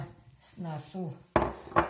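Sliced potatoes are tipped into a frying pan with hot fat on a gas stove, giving two sharp clattering bursts close up after a few brief voiced sounds.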